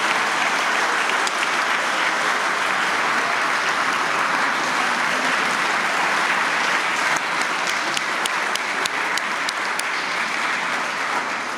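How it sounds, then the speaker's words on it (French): Sustained standing ovation for musicians at a traditional 13 July ceremony in Dijon, dense steady applause filling the whole stretch at an even, loud level with no voices rising above it. "une standing ovation pour les musiciens qui l'ont vraiment bien mérité"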